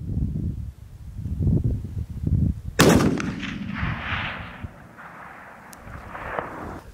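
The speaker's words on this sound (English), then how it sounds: "Dad's shot hit to the right." A long-range rifle fired from a prone position at a rock 897 yards away lets out one sharp, loud report, and a long echo rolls off the terrain after it. Low rustling and handling noise come before the shot.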